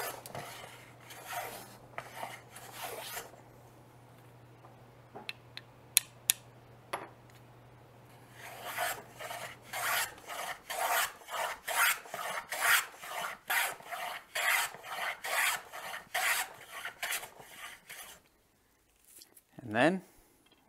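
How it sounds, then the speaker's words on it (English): Fales Patent combination plane cutting a bead along a wooden edge, a series of rhythmic, rasping close-up strokes in bursts, preceded by a few scattered scrapes, with a person talking at times. "whenever the other side starts to touch is when I go ahead and basically start planing"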